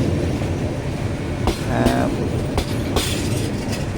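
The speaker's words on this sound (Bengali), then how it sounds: "এই যে ট্রেন এসে থামলো" A train pulls in and stops at Azampur railway station near Akhaura, Brahmanbaria, with a steady low rumble of rolling wagons, a few sharp clanks and a brief squeal from the wheels as it slows.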